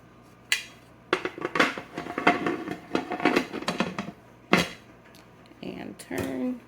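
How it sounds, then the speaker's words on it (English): A metal pressure canner lid is set on and turned in a home kitchen, giving a run of clattering, scraping metallic knocks and clinks, close and fairly loud, with short pauses between. "I'm just gonna go ahead and put this lid on."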